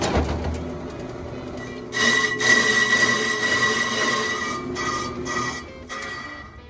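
An Amico lathe spins a slightly wobbly seal housing part from a 1972 Chevy dump truck, giving a steady rubbing, grinding whir with a louder scraping stretch in the middle before it eases off.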